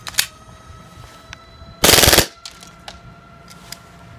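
An airsoft gun fires a single rapid full-auto burst lasting about half a second, loud and close. Faint clicks and taps come before and after the burst.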